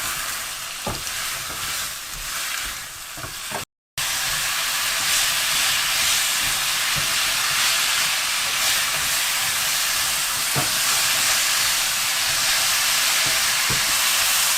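Green pumpkin stir-frying in a pan, a loud continuous sizzle and hiss with occasional stirring scrapes, interrupted by a brief cut before the frying carries on steadily.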